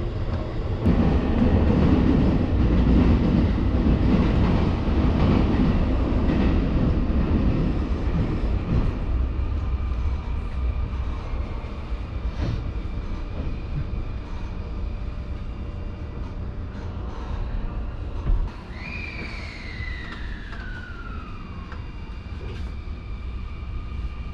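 An express train on the Sotetsu line runs loudly with a low rumbling roar that gradually eases, joined near the end by a high squealing whine sliding downward.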